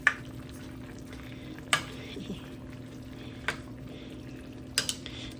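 Onions fry quietly in a pan while being stirred, a soft steady sizzle broken by a few sharp clicks and scrapes of the utensil against the pan.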